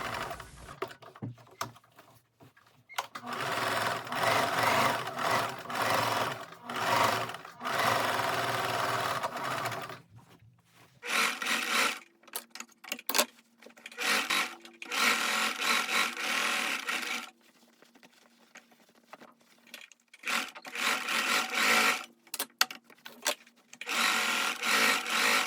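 A sewing machine top-stitches down the sides of a handmade book tote bag, running in several rapid bursts of stitching separated by short pauses and quieter handling of the fabric.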